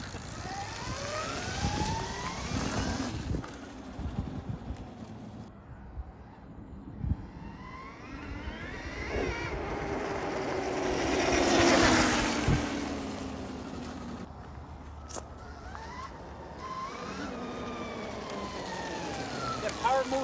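A Yamaha Banshee quad converted to a Stark Varg electric powertrain accelerates with a rising and falling electric whine that swells to a loud peak near the middle, over wind noise, with people talking at times.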